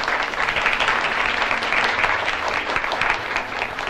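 An audience applauds a fashion show of outfits at a 1970s Polish event: dense, steady clapping from a crowd, loud and continuous throughout without pause.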